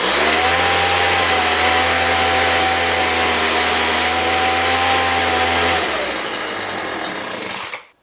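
Poulan Pro 25cc 2-cycle leaf blower engine running at a steady, loud buzzing idle for about six seconds, then sputtering down and dying with a brief final rattle.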